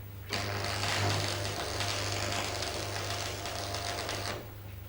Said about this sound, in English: Tack weld as before at one end.